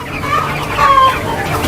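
Laying hens cluck close by on a poultry farm, a few loud, drawn-out calls rising over a steady murmur of the flock.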